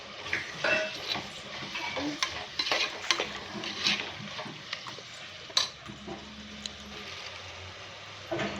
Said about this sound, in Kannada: ಮಸಾಲೆ ಎಲ್ಲ ಚೆನ್ನಾಗಿ ಫ್ರೈ ಆಗಲಿ. ಇದಕ್ಕೆ 1-2-3 ಟೊಮೊಟೊ ಸೇರಿಸ್ಕೊಳ್ಳೋಣ.